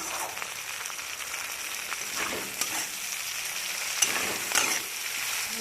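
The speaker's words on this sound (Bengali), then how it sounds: "এরপর আমি টমেটোগুলো দিয়ে দেবো।" Tomatoes fry in a spiced masala in a pan over a low flame, a steady sizzle with occasional stirring scrapes and small clicks, close and continuous with no talking.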